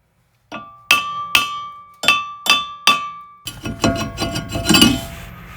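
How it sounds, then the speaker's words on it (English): Hammer striking a rusted brake rotor on a Ford Escape, six sharp ringing metallic hits spaced about half a second apart, close and loud, followed by scraping and clattering as debris falls. "Sometimes you gotta smack them a little bit"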